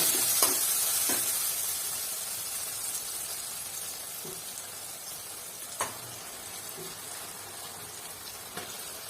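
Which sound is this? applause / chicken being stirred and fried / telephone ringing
chicken being stirred and fried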